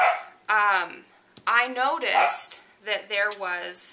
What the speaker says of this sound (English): sorry about my retarded dog